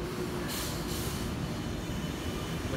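A Sydney Trains train pulls out of platform 4 at Chatswood station with a loud, steady rumble of wheels and rails and a high wheel squeal, and no voices.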